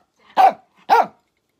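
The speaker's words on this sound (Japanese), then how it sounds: "吠えないでごめんね。" A dog gives two loud, close, low-pitched barks about half a second apart, separated by silence.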